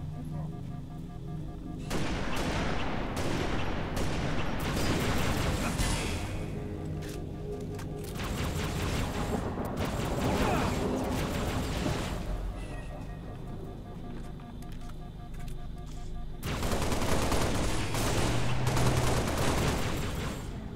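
Rapid bursts of gunfire from co-op play of the video game Halo Reach on Legendary difficulty, dense and loud, arriving in three sustained volleys with short lulls between them.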